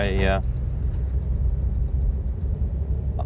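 A vintage Rolls-Royce engine rumbles steadily at a low pitch while driving, a smooth continuous drone, with a brief voice at the very start.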